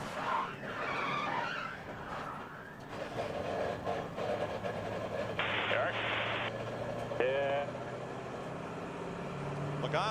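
NASCAR stock cars at the 2011 Budweiser Shootout roar and skid through a corner as a crash unfolds, with tire squeal and engine noise under continuous race commentary and crowd din.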